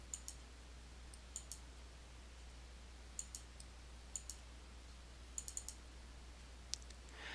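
Mouse clicks on ribbon tabs in Windows 8.1 File Explorer, a series of sharp, isolated clicks scattered at irregular intervals, some in quick pairs or triplets, faint over a steady low hum with no talking.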